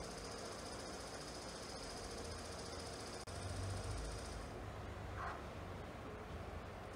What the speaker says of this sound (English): Now let's check the motor by giving 24 volt power from SMPS. You can see that the motor has started working.